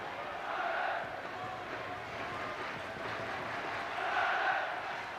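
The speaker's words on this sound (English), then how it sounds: "That's an ironic cheer from the home contingent of supporters." Home supporters at a 1991 England v Republic of Ireland football match let out a sustained ironic cheer, a broad crowd roar that swells twice across the stadium.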